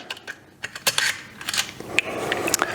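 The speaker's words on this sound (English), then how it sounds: "loosen this bolt up, and there's a pin here with some holes in the frame" A bolt is loosened and a frame shifted one pin hole on a linear assembly, giving a close run of irregular metallic clicks, ratcheting ticks and small clanks.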